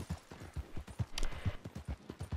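Horse hooves clip-clop steadily in a video game, a rapid, even rhythm of soft, close thuds at a trot with a brief brighter swish midway.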